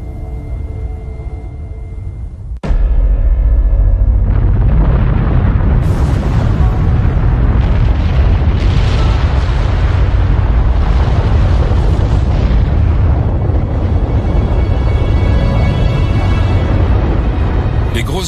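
A sudden deep boom after a short quiet stretch, followed by a sustained roaring rumble of volcanic explosions that stays loud to the end.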